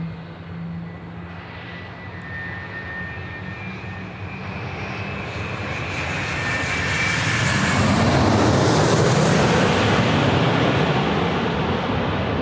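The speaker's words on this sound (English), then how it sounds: "You hear the 777s starting up" Boeing 777 jet engines spooling up at Sydney Airport, a loud broad roar that steadily builds and then holds near its peak, heard at a distance across the airfield with no talk over it.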